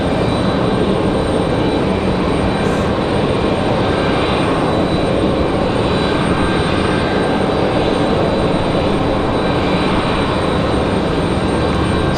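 A Delta jet airliner at Raleigh-Durham International Airport, a loud, steady engine roar that holds unbroken throughout, close and without speech.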